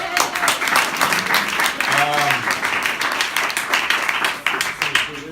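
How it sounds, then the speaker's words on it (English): Audience applause and clapping at a running group gathering, a dense steady patter of many hands filling the space with a voice briefly speaking over it. "round of applause for Janji for letting us crash this place"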